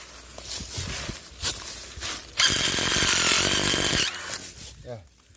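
A power tool drills into woody shrubs such as acacia or mulberry outdoors, a loud steady whine lasting about a second and a half between softer handling noises, with someone talking nearby.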